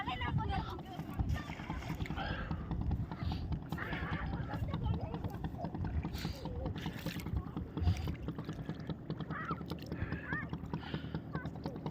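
A boat moves on the water off Sitarampur beach, a steady churning rumble with wind buffeting throughout, continuous and fairly close.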